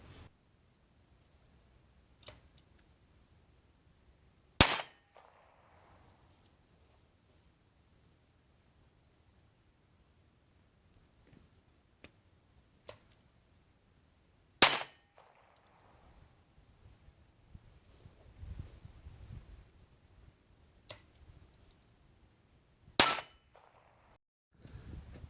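Three sharp, isolated shots of Calibri .22 rounds fired from a shotgun fitted with a Short Lane adapter, spaced several seconds apart in a quiet outdoor setting with faint wind and handling noise between them.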